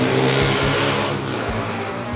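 A passenger bus on the Palembang–Medan route idles with its engine running before departure, a steady low rumble with brief surges, close and continuous.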